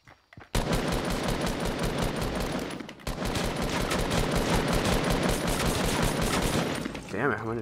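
Dense, sustained automatic gunfire in the video game Fortnite Battle Royale, loud and continuous for several seconds with one brief pause, rapid shots overlapping into a steady rattle.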